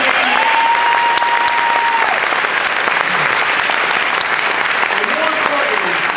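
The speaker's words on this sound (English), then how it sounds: "Give him a round of applause." Steady, loud applause from a film festival audience in Virginia greeting a governor's introduction of the film 'Loving', continuous throughout with a tonal whistle-like sound rising over it at moments and faint voices beneath.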